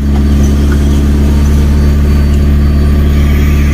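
Engine of a 1990s Mitsubishi Lancer with EFI idling steadily and loudly up close, a constant low throbbing drone with no speech.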